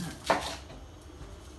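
A single sharp knife chop on a peeled onion on a board, heard quietly early on, followed by faint kitchen ambience.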